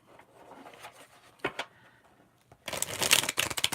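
A deck of reading cards is handled softly with a few light taps, then shuffled in a brisk, crisp burst of riffling that lasts about a second, close and clear.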